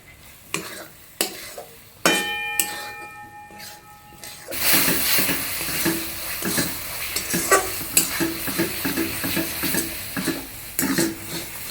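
Chopped tomato added to a pan with spices for a jackfruit curry, a few spoon clinks at first, then a loud burst of sizzling frying that continues under repeated scraping stirs.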